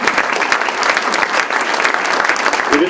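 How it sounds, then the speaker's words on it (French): Audience at an evening cocktail reception clapping together, a dense, steady burst of applause filling the room at close range and holding level throughout. "J'aimerais qu'on l'applaudisse, M. Lacourcière"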